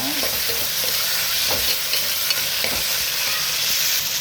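Green chilli and tomatoes sauté in a hot pan with a steady close sizzle, broken by a few soft spoon strokes against the metal, and no talking.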